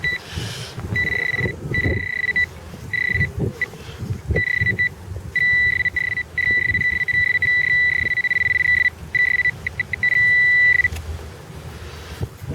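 A metal detector sweeping a park beeps repeatedly on a target signal with steady high tones broken by short gaps, over outdoor rustling and handling noise.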